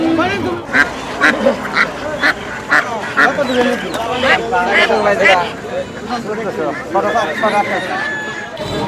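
Ducks quack repeatedly and loudly nearby at a village poultry market, mixed with people talking and general market chatter.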